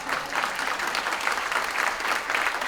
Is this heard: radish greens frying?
no